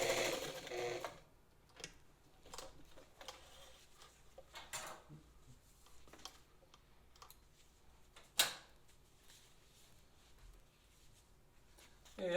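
A vintage Italian Necchi BF sewing machine stitches fabric across a seam in a short opening run, followed by quiet, scattered clicks and taps in a hushed room.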